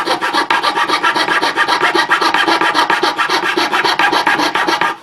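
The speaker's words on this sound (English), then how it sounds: "The saw blade will push forward for you." A hand saw cuts a knife blank from a custom knife-making kit in fast, steady back-and-forth strokes, a loud close rasping with an even rhythm of about four to five strokes per second and no talk.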